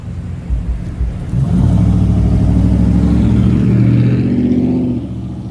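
A vehicle passes along a busy road, the engine building from a low rumble into a loud, steady drone for several seconds before easing off, close by with no talk.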